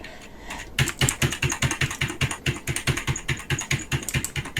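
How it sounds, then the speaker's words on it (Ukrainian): Rapid clicking of keyboard keys being pressed during a co-op Phasmophobia game, a steady stream of close, crisp taps with no talking. "Я даже в тебе чую, як я нажимаю на кнопку"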